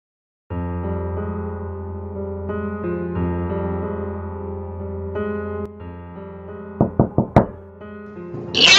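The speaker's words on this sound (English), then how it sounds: "had not taken the noises much more than some tapping in the night on her front door" Knocking on a front door at night: four quick, sharp raps near the end, preceded by a sustained droning musical tone, then a brief hiss at the close.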